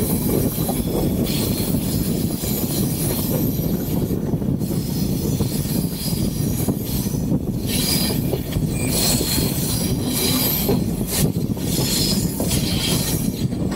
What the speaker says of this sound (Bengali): ওই যে ট্রেন যাচ্ছে, ট্রেনে মাথার সামনে দিকে।